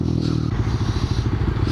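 A Honda Grom motorcycle ridden on a street produces a close, steady low engine drone with rhythmic pulsing and a rattly texture, loud throughout with no talk.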